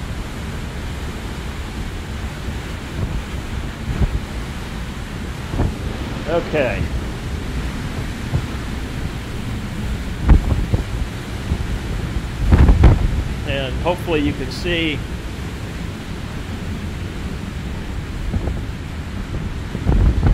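Strong Hurricane Ian wind sweeps across a beach deck, a steady, close, roaring rush with buffeting gusts on the microphone, while a person speaks briefly over it.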